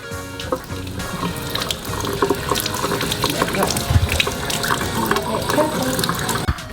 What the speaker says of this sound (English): now we need to rinse off the egg in the warm water and rub off all the shell